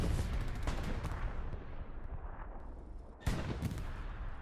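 A tank shell ricochets off armor in the Hell Let Loose game: a loud opening boom with a long rumbling decay, then a second sharp impact crack near the end.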